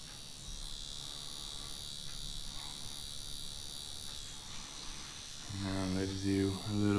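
A Dragonhawk Mast Archer 2 tattoo machine hums with a steady, fine electric buzz at low level, and a voice starts speaking over it near the end.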